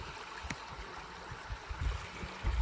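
Stream water flowing over fist-sized rocks in a shallow riffle, a soft continuous gurgle and trickle with occasional light splashes, steady and moderately close.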